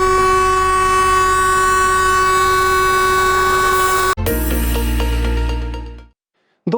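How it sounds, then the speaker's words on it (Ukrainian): Loud, sustained truck horn blasts with steady tones hold for about four seconds, then a sharp break into a second chord of horns that fades out, at a funeral procession. "Провели його у так званий останній рейс звуками автомобільних клаксонів"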